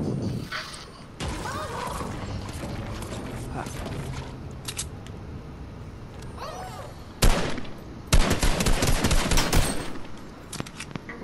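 Bursts of game gunfire, including rapid automatic fusillades, crackle loudly in a Fortnite-style shooter match, with clicks and mechanical reload sounds between volleys and players talking faintly at times.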